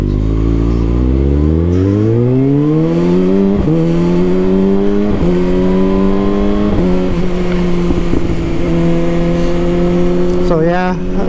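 Kawasaki ZX6R sport motorcycle ridden on the road, engine revving up through rising gear pulls with shift breaks, loud and continuous from the rider's position; wind rush and a few faint voice bits sit underneath.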